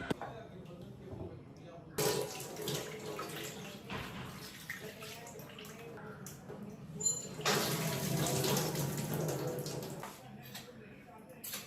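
Running water splashes and pours in bursts as red lentils are rinsed, the flow starting and stopping a few times with quiet rustling between.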